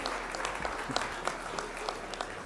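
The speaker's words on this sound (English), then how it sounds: "Let's welcome Cardo with a warm applause." A conference audience at a startup event applauds to welcome a speaker to the stage, with steady dense clapping throughout and no voices over it.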